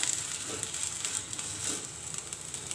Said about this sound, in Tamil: வெண்டைக்காவை இந்த அளவுக்கு நல்லா ஃப்ரை பண்ணிக்கிங்க